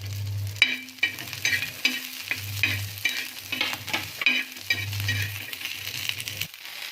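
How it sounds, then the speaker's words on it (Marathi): Chili, garlic and ginger sizzle and fry in a pan while being stirred, with a steady crackle broken by repeated scraping strokes and light clinks of the utensil against the pan, close and fairly quiet, with no talk. "हे बघा मिरची लसूण आणि आल्या आपलं भाजून झालेलं आहे"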